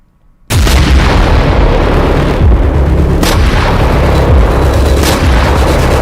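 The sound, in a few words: explosions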